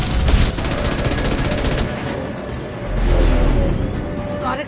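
Gunfire from the video game Mass Effect 2, a dense rapid burst up front, then steady rumbling combat noise with another swell of shots near the end, loud and continuous.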